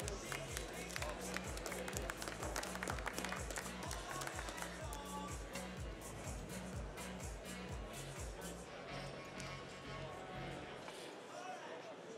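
An audience applauds at a cup tasters coffee competition semi-final, a burst of clapping mixed with a pulsing beat of background music, with a voice talking over it.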